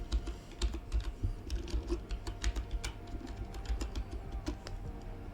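Quick, irregular clicks of a computer keyboard as a widget name is typed, close and fairly quiet, with faint bird cooing in the background.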